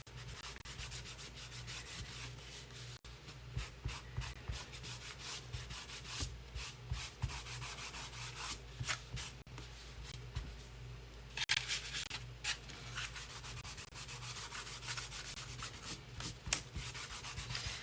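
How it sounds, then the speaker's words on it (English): Painted wood on a farmhouse Christmas bench insert is rubbed with a wet wipe, giving a steady, close scrubbing rasp with repeated short strokes that continues throughout without any talking. "a wet wipe will take off the paint as well. So you want to be careful with how hard you're rubbing."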